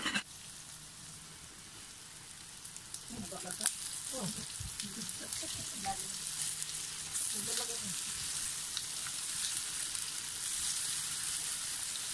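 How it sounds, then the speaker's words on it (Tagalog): Tofu fries in hot oil with a steady bright crackling sizzle throughout, while voices talk in the background for a stretch in the middle. "And prituhin po natin ito hanggang sa mag-golden brown po ito ng konti."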